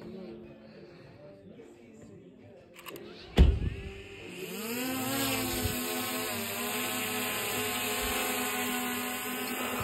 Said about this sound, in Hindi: भाई ये गया अपना ड्रोन